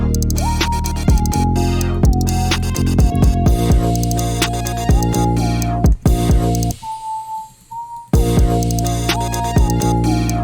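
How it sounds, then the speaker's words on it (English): A whistle sample pitched up in FL Studio plays a choppy experimental beat with stuttering tonal hits, sliding drops and a brief thinner break near the end, loud and with no voices. "I just changed the brass with the whistle and it sounds like this."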